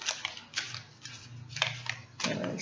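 Oracle cards are shuffled by hand, giving a run of soft papery riffles and slaps in uneven bursts, close and fairly quiet, with no talking.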